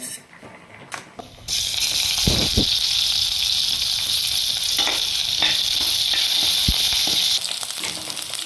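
A loud, steady sizzle of mustard seeds frying in hot oil starts abruptly and continues, with a few sharp pops and crackles throughout.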